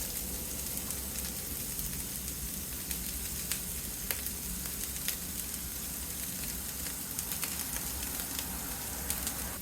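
Onions sizzle steadily in peanut oil on a Blackstone griddle, seasoned with paprika; a dense, continuous frying hiss with scattered sharp pops runs close and loud, with no talking.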